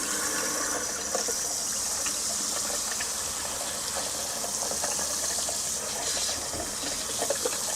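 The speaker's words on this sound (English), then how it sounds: "We're going to turn the hot on." Hot water runs from a bathroom tap fed by a FOGATTI InstaShower 8 Plus heater, a steady hiss and splash that stays even throughout with small gurgles, close by and with no voices.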